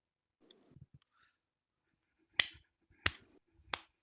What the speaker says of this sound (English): That's a pity clap.